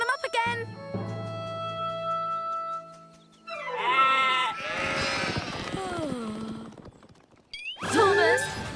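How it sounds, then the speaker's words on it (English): Sheep bleat in a cartoon farm scene as the flock escapes, wavering cries rising over background music and mixed with other voices and speech. "the sheep are getting away"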